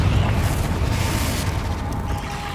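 Confringo explosive spell blast in Hogwarts Legacy, a loud rumbling boom with a sustained low roar that fades slowly, no voices over it.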